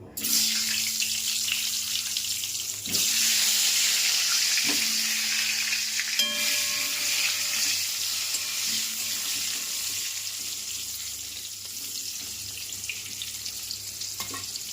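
Diced potatoes fry in hot oil with a steady, close sizzle that runs throughout, broken by a few sharp clinks of a utensil against the pan and some light stirring.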